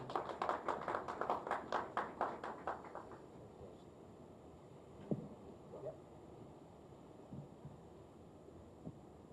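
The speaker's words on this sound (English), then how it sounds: "Give those guys a hand clap as they come on stage." Small audience clapping as basketball coaches come on stage, a brief burst of scattered hand claps that fades out after a few seconds, leaving quiet room noise and a few isolated taps.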